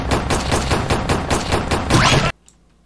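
Rapid video game gunfire rattles in a dense, evenly spaced burst of loud shots, then cuts off abruptly into near silence.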